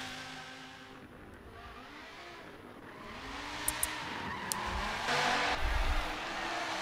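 Race car at Sebring in a racing game, engine droning steadily before it revs higher and tires squeal through a drift around the final turn, with a few faint clicks along the way.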